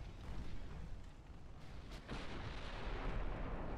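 Naval artillery firing in the Ultimate Admiral Dreadnought naval warfare game, a continuous heavy rumble of gunfire and booming blasts with no clear gaps, loud and dense throughout.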